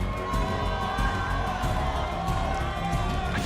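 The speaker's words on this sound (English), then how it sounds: "I think the crowd realizes how important this moment is for both sides." Crowd at a Halo esports championship major cheering and shouting, a busy, reverberant arena roar kept fairly low under ongoing commentary.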